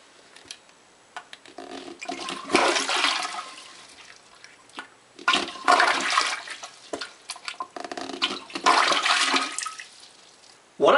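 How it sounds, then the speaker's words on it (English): A plunger works a blocked toilet bowl in separate strokes. Each stroke makes a gurgling, splashing rush of water in uneven bursts, moderately close, with quiet gaps between them. "I used to make separate plunger strokes, which took a lot longer to get it unblocked and looked like this"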